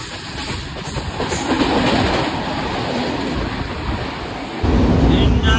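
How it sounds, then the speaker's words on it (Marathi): A train running past Ukshi railway station in the Konkan region, heard from on board as a loud continuous rumble and rattle of wagons, growing heavier near the end. "मित्रांनो उक्षी रेल्वे स्टेशन क्रॉस करत आहोत आपण."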